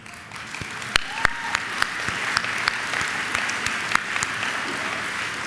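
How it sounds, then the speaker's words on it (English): Seniors who were once little Acorns are applauded by a school assembly: a steady wash of clapping from a large hall, fairly loud and even, with a few sharper claps standing out near the front. "so we can give you a round of applause"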